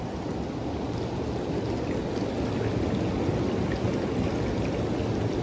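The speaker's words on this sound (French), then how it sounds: "j'obtiens de beaux bouillons dans mon spa et des jets plus forts" Viking spa with air jets and a cascade running, a steady, loud rushing and bubbling of churning water, close and continuous without pause or voices.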